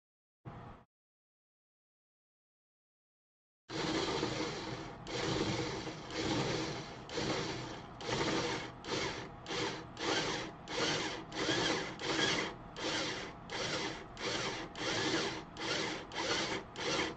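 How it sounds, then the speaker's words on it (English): A power drill bores a larger hole through a desk for a Rosewill RMS 16001 desk mount, starting after a short blip and silence, then whining loudly and close in pulsing bursts as the trigger is eased and pressed, with no talk. "then we're going to go with a larger drill here in the moment."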